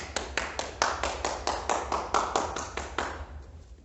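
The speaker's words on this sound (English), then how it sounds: "Let's clap." Hands clap in a steady, even rhythm, roughly a dozen close, crisp claps, fading out at the end.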